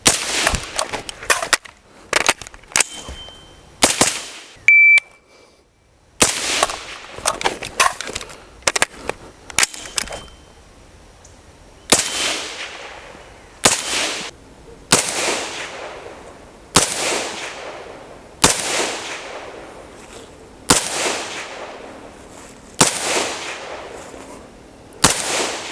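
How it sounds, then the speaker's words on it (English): Suppressed 5.56 rifle fired through a HUXWRX Flow 556K suppressor with 77 grain AAC OTM ammunition: about twenty sharp reports, a rapid cluster early and then evenly spaced single shots, each with a short echoing tail. "We're just going to see if that changes the report on the suppressor for the HUXWRX 556K."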